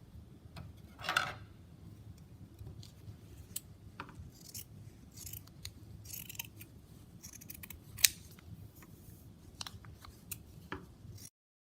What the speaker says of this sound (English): now we can go ahead and cut the red portion out